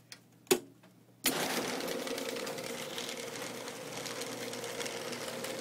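A Genie 800 garage door opener clicks a few times, then starts up and runs with a steady, fairly quiet mechanical drone.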